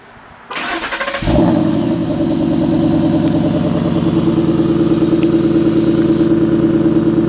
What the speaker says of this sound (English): this car is equipped with auto start, so factory auto start, so I'll let you hear it now